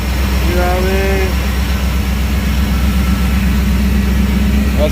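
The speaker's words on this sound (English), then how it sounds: "Cold start, man. Start right up. Idling nicely." Chevrolet K5 Blazer carburetor engine idling steadily and loudly just after a cold start, a constant low rumble with someone talking over it.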